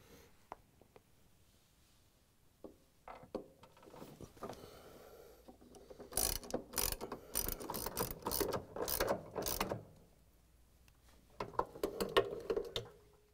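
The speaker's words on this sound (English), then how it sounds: "we're going to use the ratchet with the extensions and the 5/16 inch socket to put the bolts back in" A hand ratchet with extensions and a 5/16 inch socket drives bolts into a Frigidaire/Electrolux washer drive motor mount, giving faint, close clicking bursts in short runs with pauses between strokes.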